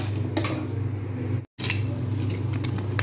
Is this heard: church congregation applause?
no